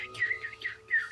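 Birds chirp in a few short, bright tweets, close and fairly faint, with no talking.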